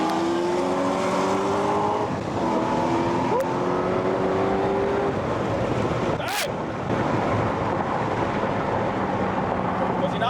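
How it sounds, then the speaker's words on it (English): Corvette ZR1 racing a Tesla Model 3, with loud continuous engine roar rising and falling in pitch through gear changes, heavy wind rush over the microphone, and a brief sharp burst partway through. "I'm going to use older racing audio to recreate it"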